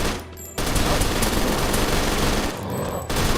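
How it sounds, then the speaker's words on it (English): Lewis MK machine gun in a zombies-mode video game, firing a sustained loud burst of rapid shots for about two seconds, close and dominant, with brief quieter gaps before and after. "this is the Lewis MK"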